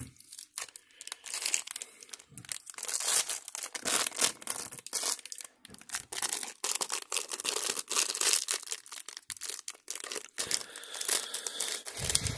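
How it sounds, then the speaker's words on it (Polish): A plastic LEGO Star Wars advent calendar bag crinkles and rustles in bursts as it is cut open with scissors, close and fairly loud, with irregular crunching handling and no talk. "Dobra, biorę nożyczki."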